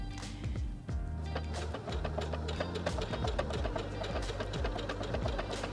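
A Singer HD6805C sewing machine works through a tulip decorative stitch, its motor humming steadily with rhythmic needle patter and small shifts in pitch as the pattern changes, close and continuous.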